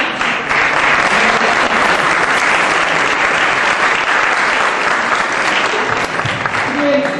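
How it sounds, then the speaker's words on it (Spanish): An audience at a round-table panel breaks into loud, sustained applause that fills the room evenly from start to finish, with no pauses. "recibamos un fuerte aplauso a la licenciada"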